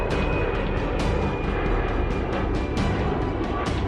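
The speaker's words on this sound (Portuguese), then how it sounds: "só pode seguir viagem depois que o avião ganha o céu" An airplane takes off from an airport beside a city avenue in Andalusia, its loud steady engine roar filling the air continuously.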